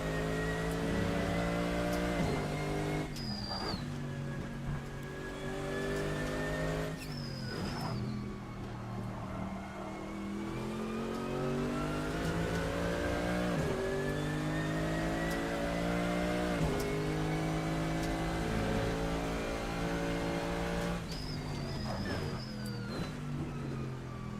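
A GT3 race car lapping Portimao in Assetto Corsa, engine loud and close, revving up through the gears in rising sweeps, with sharp upshift breaks and brief lifts.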